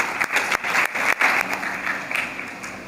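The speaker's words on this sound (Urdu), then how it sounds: "اپنے لیے زور سے تالیاں دیں۔" Children at a school assembly clap loudly and continuously, a dense crowd of hands filling the space with steady applause that swells and eases slightly.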